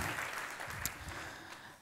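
Soft, distant applause from an audience at a regional science-communication contest final, continuous and fairly faint, greeting a contestant.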